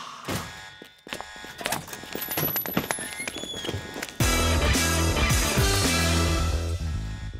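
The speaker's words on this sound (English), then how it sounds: "Jesus Christ, an alarm!" An alarm goes off abruptly partway through, a loud, sustained blaring that takes over from scattered clatter and bangs and continues steadily to the end.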